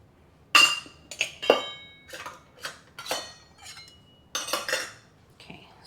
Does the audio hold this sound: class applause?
no